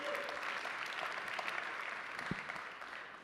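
An audience applauding at a conference panel on NFTs at the 2022 North American Bitcoin Conference, a steady round of clapping from a moderately distant crowd that holds for the whole stretch.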